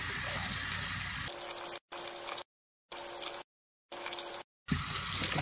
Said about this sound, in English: probably 5 minutes or maybe a little more rinsing to get the water to run clear